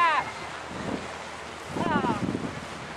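Wind buffets the microphone on a beach while a kite is flown, a rough gusty rumble with brief voices talking over it.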